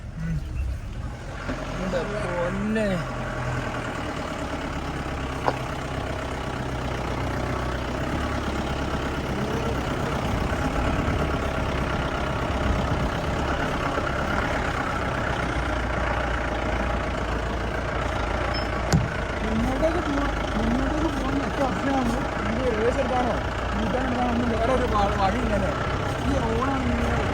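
A Mahindra Bolero's engine labours steadily up a high mountain road in Nepal, a continuous droning hum with shifting whine, while people talk inside the vehicle over it.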